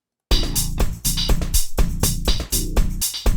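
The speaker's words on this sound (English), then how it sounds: "Notice that we've got hi-hats and things and synthesizers going on." A dry music mix without Console processing, with punchy drums, ticking hi-hats and synthesizers driving a fast, loud rhythmic groove after a brief silent start.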